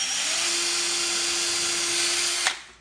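A power drill whines steadily at a constant pitch while boring a hole through a homemade muzzle-loader speed loader, then stops abruptly with a short clunk at the end.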